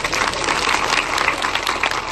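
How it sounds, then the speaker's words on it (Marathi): An audience applauds a political leader with dense, steady clapping that stays loud throughout, with no clear break. "त्यांच्यासाठी एकदा टाळ्या वाजवा"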